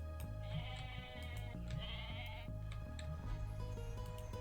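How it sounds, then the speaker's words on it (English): Bleating sheep in the real-time strategy game Age of Mythology Retold, several short quavering bleats over a steady game music and ambience bed, with no talk. "Put the sheep by the market"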